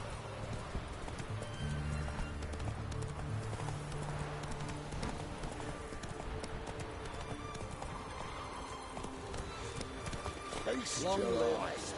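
Roach the horse gallops in Witcher 3 with rapid, rhythmic hoof clip-clops, ending in a whinny near the close, under game music and voices.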